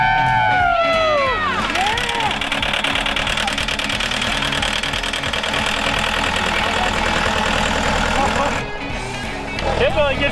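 A diesel skid loader engine runs steadily throughout, loud and close, under excited shouting, cheering and talking voices, easing slightly near the end.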